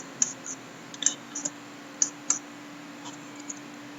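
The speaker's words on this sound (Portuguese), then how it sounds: "Aqui eu estou dando Enter" Light plastic clicks from a computer keyboard as the Enter key is pressed, about ten sharp taps spaced irregularly, close and fairly quiet against a faint background hum.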